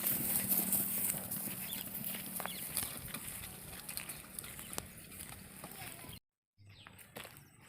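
Bullocks released for the evening clip-clop along the ground, a scattered patter of hoof taps over steady outdoor ambience, and the sound cuts out briefly before resuming faintly.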